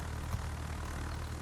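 Carrier rocket planes flying in World of Warships, a faint, steady propeller drone with no talking.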